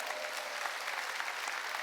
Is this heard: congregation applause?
yes